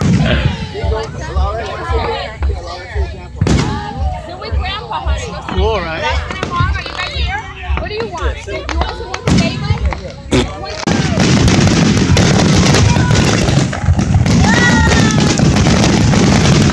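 Fireworks bursting outdoors at a July celebration, a long run of sharp bangs and crackles that turns into a dense, continuous roar of explosions near the end, with excited people shouting and talking throughout.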